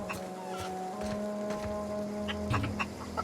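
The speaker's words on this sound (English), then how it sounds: "I can talk to a chicken?" Chicken in the video game The Outer Worlds clucking in short scattered bursts over a steady humming ambient drone, moderately quiet.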